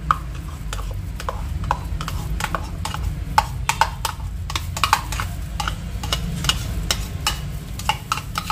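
Goat meat being stir-fried in a pan with spices for oseng daging kambing ala sate maranggi, a steady sizzle under rapid clicking scrapes of a spatula stirring, close and continuous without talking.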